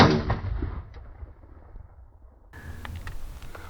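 A 5.7x28 pistol fires an FN 40-grain round into ballistics gelatin, heard as a loud report right at the start that decays into a fading echo, followed by quiet outdoor background noise.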